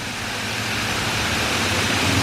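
Rushing water from the waterfall at Yates Mill makes a constant, full broadband roar with no break, and no voices or other sounds rise above it.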